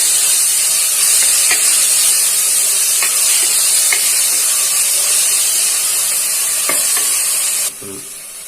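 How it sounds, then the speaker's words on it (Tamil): Goat head curry masala with ginger garlic paste being stirred in a hot pan, a continuous loud sizzle and hiss with occasional scrapes of the spoon, ending abruptly. "அதுல பச்சை வாசனை போற அளவுக்கு நல்லா கிண்டி விடணும்."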